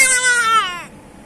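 A voice imitates an old cat, giving one loud, drawn-out meow that wavers and falls in pitch before cutting off, close and alone.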